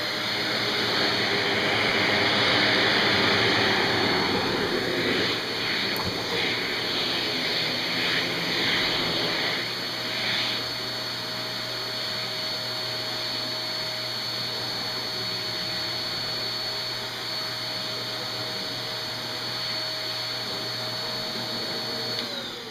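A Shark Navigator canister vacuum cleaner motor whines steadily and loudly throughout, with a high pitched tone and brief rattling bursts of dirt early on.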